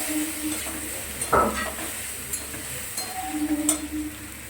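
Ground cumin mixed with water goes into a hot pan and sizzles and hisses steadily nearby. A sharp burst of sputtering comes early, and brief scraping stirs follow.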